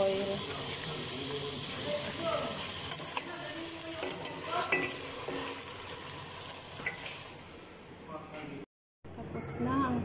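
Neem leaves frying in oil, a continuous crackling sizzle with stirring scrapes throughout, briefly cut off near the end, with a voice speaking over parts of it.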